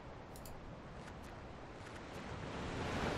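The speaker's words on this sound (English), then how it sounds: "Or, no, that's the sound of the sea." Sea ambience in a video game, a steady broad wash of surf and wind that swells slightly louder toward the end, with no voices.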